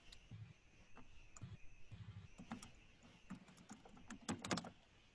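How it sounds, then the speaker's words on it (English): Typing on a computer keyboard during a remote screen-control session, with irregular clusters of light key clicks, fairly close, over a steady background hum and no talking. "This is me typing on his computer"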